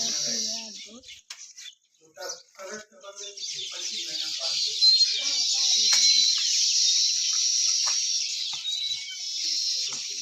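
A dense, continuous twittering of many sparrows in a tree fills the background, while a person talks briefly near the start.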